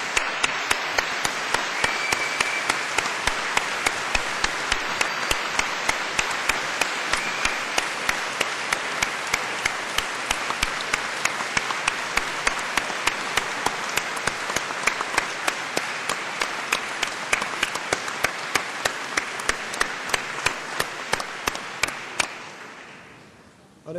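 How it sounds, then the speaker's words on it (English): A large graduation audience at Cardiff University gives sustained applause, a dense, even roar of many hands clapping. A sharp, regular tick pulses steadily through it, and the sound fades out at the end. "show your appreciation by giving them all a big round of applause"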